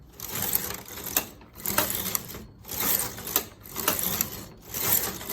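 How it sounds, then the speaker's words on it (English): A knitting machine carriage slides back and forth across the needle bed knitting stitches, a rhythmic series of rasping, clattering sweeps about once a second, close and fairly loud. "Each time I move from right to left, the carriage knits my stitches."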